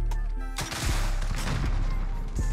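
The Encryption MK9 light machine gun hammers out a rapid burst in Modern Warfare, a short pause followed by a loud, dense string of close shots with a brief break near the end.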